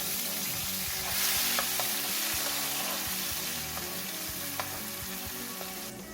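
A blended pepper sauce fries in a pan over medium heat, giving a soft continuous sizzle with faint stirring scrapes and pops, close by and fairly quiet, with no voices.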